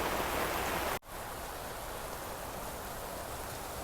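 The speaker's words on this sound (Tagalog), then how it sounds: "parang magtatagal itong ulan na ito" Rain pours steadily over an organic vegetable garden with eggplants, a dense, constant hiss of falling drops on surfaces that cuts briefly in volume and then continues, without any talking.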